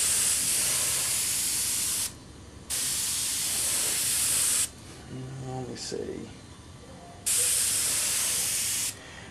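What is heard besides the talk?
airbrush spraying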